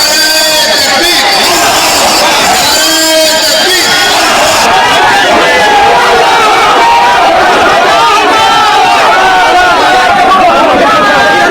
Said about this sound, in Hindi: बाबरी बनाने के लिए लाखों की भीड़ पहुंच गई थी बाबरी की नींव रखने के लिए।